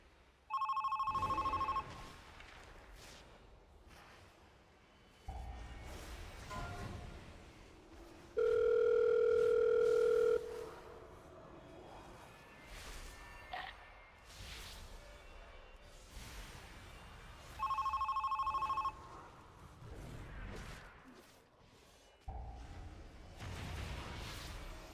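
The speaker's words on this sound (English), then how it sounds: "What's the phone sound? It is every time one of the afflicted spawn." Telephone ring alert in World of Warcraft marking each afflicted spawn, sounding as loud, steady tonal bursts that recur three times amid game combat noise and whooshes, with no talking.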